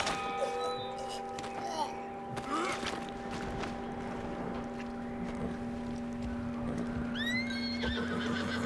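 Horse neighing and whinnying with clip-clopping hooves in the Red Dead Redemption II video game, set over a steady ambient hum and wind, with a rising whinny near the end.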